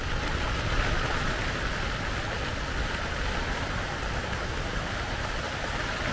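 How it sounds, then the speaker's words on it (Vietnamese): Heavy rain pours steadily outdoors in the Vietnamese countryside, a dense, continuous hiss that stays even and loud from start to finish with no voices. "ra tắm mưa đi em, ra tắm mưa đi"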